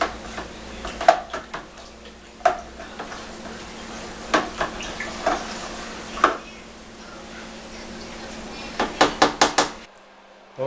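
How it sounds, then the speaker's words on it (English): Homebrew Skeeter Pee gets a quick stir, with sharp intermittent taps and knocks of a spoon against the vessel, irregularly spaced and close, ending in a brief fast flurry of clicks. "Give this a quick stir."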